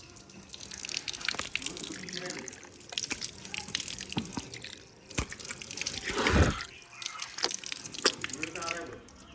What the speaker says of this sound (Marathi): थंडगार पाण्यानं पहिला पाय धुवून घ्यायचं.